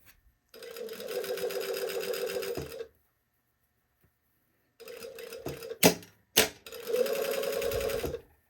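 A sewing machine stitches a sleeve seam at a 3/8-inch allowance in two steady whirring bursts separated by a pause, then a few short stops and starts before running again, close and loud with no talking.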